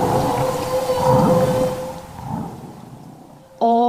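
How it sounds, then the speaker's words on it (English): Recorded whale calls: a long eerie tonal moan with a steady sustained pitch over rumbling low noise, then a sudden loud harmonic call near the end, like a siren mixed with a motor turning over. "All whales produce calls."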